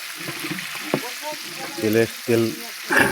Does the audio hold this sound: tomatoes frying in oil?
yes